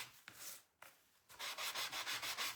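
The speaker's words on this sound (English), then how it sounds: "let's go ahead and come back to this and sand it" Sandpaper rubbing back and forth over a wooden beach hutch, a few separate strokes first, then a steady run of rhythmic, close scratchy passes with no talking.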